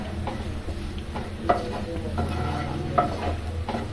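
Potato egg fry cooking in a pan, a low continuous sizzle with rhythmic stirring scrapes and two sharper metallic taps of the spatula against the pan, close and moderately quiet.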